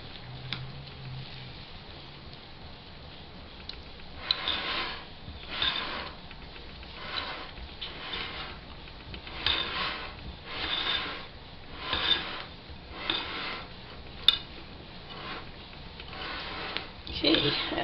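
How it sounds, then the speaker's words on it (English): Boston brown bread batter is stirred in a bowl in rhythmic scraping strokes, soft and fairly close, repeating about every second without talking. "Mix those until they're evenly combined."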